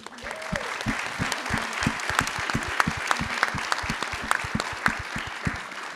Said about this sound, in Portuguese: eu gostaria de pedir uma salva de palmas a vocês